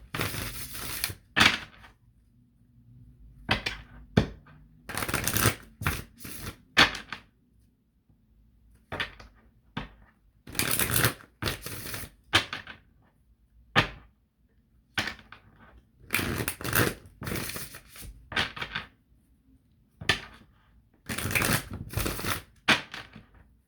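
A Prisma Visions tarot deck is shuffled by hand in repeated short riffling bursts separated by quiet pauses, close and fairly soft.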